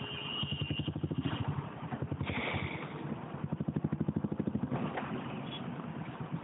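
A Royal Enfield motorcycle engine idles close by with a distinct, even thumping beat and some mechanical clatter, steady and loud with no talk.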